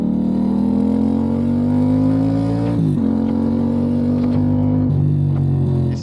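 A Yamaha motorcycle engine roaring loudly and close in a steady, throaty drone, its pitch climbing slowly and then dropping sharply twice as the revs change.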